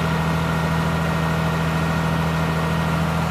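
A first-generation Dodge Cummins diesel held at about 1600 RPM with a hand throttle to warm up, giving a steady, close, unbroken low drone and clatter with no change for the whole span.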